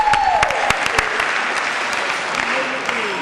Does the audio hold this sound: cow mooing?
no